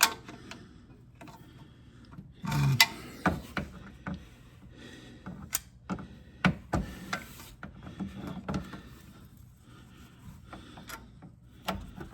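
An oil filter on a 2025 Toyota Camry is wrenched loose, giving scattered close clicks, creaks and knocks at an irregular pace with a few sharper snaps.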